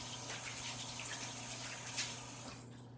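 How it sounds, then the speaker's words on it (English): Water from a kitchen tap runs steadily while hands are rinsed under it, a faint, even splashing hiss that cuts off near the end. "Let me just rinse off my hands here."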